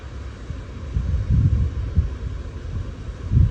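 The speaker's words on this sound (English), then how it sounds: "It is really blustery out there." Strong, blustery wind buffets the microphone outdoors during a snowstorm, rumbling in uneven low gusts that swell and fade over a faint steady hiss.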